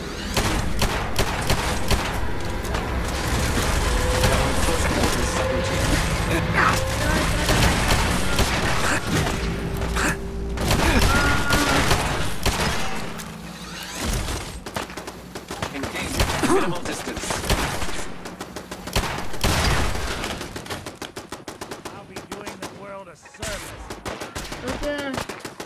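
Repeated revolver gunshots crack out across a sustained stretch, loud and dense with booming reports, while people talk over the shooting.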